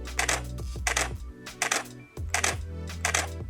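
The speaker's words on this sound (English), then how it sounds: "And the silent mode in 6D Mark II." Canon 6D Mark II shutter in silent mode clicks in a run of soft, doubled mechanical clacks, roughly six actuations in irregular pairs, quieter and close up with no talking.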